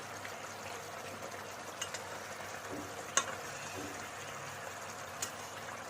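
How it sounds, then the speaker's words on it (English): Pieces of khoira fish frying in gravy while being stirred, a soft steady sizzle with a few faint scrapes and clinks of the spoon, quiet and close with no talk. "Either you can just keep on stirring and let it fry and let all the gravy get into the fish"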